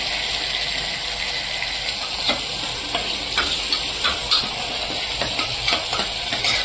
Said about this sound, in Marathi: आता आपण त्याच्यात टोमॅटो टाकून घेऊ टोमॅटो पण थोडं शिजू द्यायचं